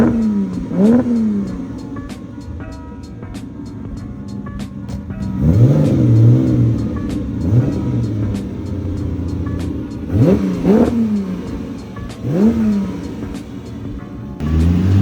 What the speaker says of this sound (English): It features a 3-liter V12 packing a whopping 240 to 280 horsepower